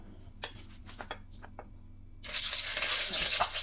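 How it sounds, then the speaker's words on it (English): Hot cooking oil in a pot for lamb tagine, with a few light clinks and stirring taps at first, then a loud, steady frying sizzle that swells up and holds close by. "So that's my oil, it's boiling."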